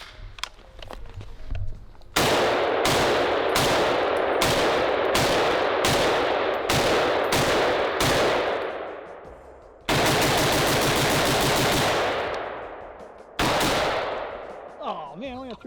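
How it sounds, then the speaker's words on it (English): .308 rifle fire: a rapid run of loud, close shots, each with a long ringing tail, followed by a couple of longer blasts that fade slowly. "Go ahead and run that 308 real quick."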